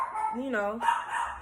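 A household dog barks a few quick, yipping times close by, mixed in with a person talking and children's voices in a home setting.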